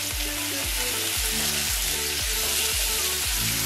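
Sliced potato chips with salt being tossed and mixed in a frying pan: a loud, steady sizzle with regular stirring strokes and a repeating low tonal sweep underneath, no voices.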